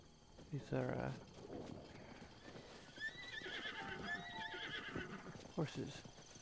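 Horses in Zelda: Breath of the Wild whinny and neigh close by over hoofbeats clip-clopping, with high whistling whinnies midway and another neigh near the end.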